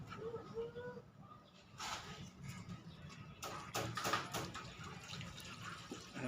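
Water from an opened tap runs and splashes steadily at low volume, with brief louder gushes. A person talks over it.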